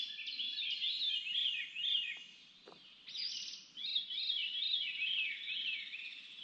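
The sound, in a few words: bird singing in the woods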